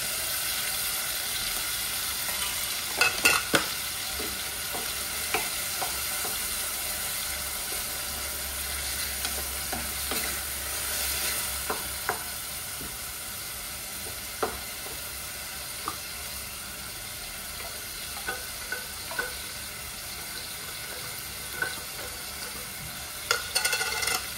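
Tuna for kabsa rice sizzles in a pan and is stirred, giving a soft, steady frying hiss broken by scattered light scrapes and clicks, with no voices.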